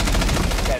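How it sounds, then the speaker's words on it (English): Shotgun fire in Rainbow Six Siege: a loud, close, dense burst of gunshots filling the whole brief moment, with game noise beneath and a faint voice. "I'm just gonna shoot at my shotgun."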